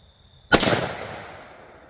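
One gunshot fired at a target about 30 yards away from a gun fitted with a PSA Fire Field Impulse red dot sight. The crack is loud and sudden and rings off into a long decaying tail outdoors.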